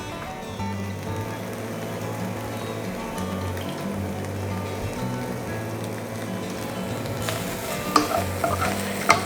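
Crushed dried beef with crushed chili frying and being stirred in coconut oil in a pan, a steady close sizzle with scraping stir strokes and a few louder clatters near the end, no voices.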